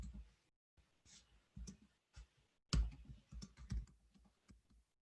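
Mouse clicks while working in Bluebeam Revu 20 software, a few quiet scattered clicks with light taps between them, close to the microphone, no talking.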